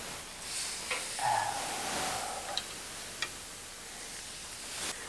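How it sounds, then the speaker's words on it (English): Chicken pieces sizzle on a hot grill with a steady, close hiss, broken by a few small ticks and pops, and no talking over it. "I love the sizzle of a grill."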